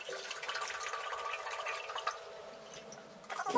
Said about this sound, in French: On va commencer par remplir notre saladier d'eau.